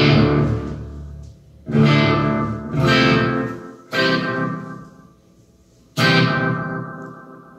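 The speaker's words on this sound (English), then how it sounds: "So that's sort of that that analog delay sound." Electric guitar played through an analog delay effect: a series of strummed chords, each struck loudly and then trailing off in long echoing repeats and smeared decay, with pauses between strikes.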